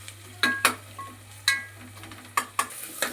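Ingredients for mutton biryani are stir-fried in a pan: roughly seven distinct scraping strokes of a spoon, each with a quick crackle of hot oil, over a faint low hum.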